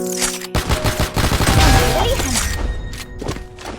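Sniper rifle fire in the mobile shooter CrossFire Mobile, heard as a dense burst of loud gunshots and impacts over game sounds, with thuds and crashing noises fading after a couple of seconds.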